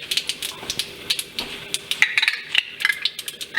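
Ginger paste is spooned into a pan while okra masala is cooked, making a rapid series of light metallic clinks and taps as the spoon scrapes and knocks against the pan.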